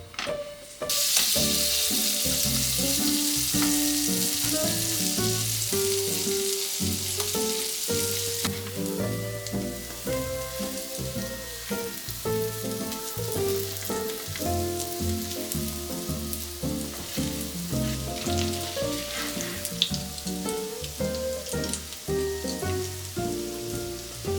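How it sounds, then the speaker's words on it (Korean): Potato pancake batter sizzles steadily in hot oil in a pan, a constant close crackle, with soft background music playing. "만들어둔 반죽을 올려 노릇하게 구워요"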